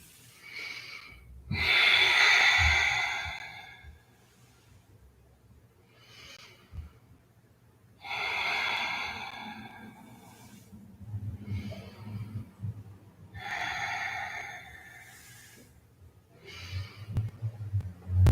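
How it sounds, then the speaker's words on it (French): Deep, audible breaths during slow yoga shoulder rotations, long breathy inhales and exhales alternating in a calm rhythm, close and alone with no talking. "J'inspire vers le haut, j'expire vers le bas."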